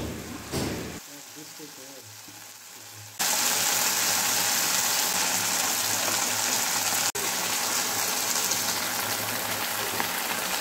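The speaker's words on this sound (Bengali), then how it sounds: "তো আমরা পরিমাণ মতো জল দিয়ে দিলাম।" Water is poured into a pan of spiced raikhor fish curry, first a quieter sizzle, then a sudden loud, steady gushing pour that continues to the end, with a voice speaking early on.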